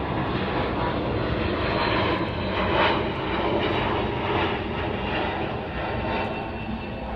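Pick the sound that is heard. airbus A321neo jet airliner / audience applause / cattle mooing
airbus A321neo jet airliner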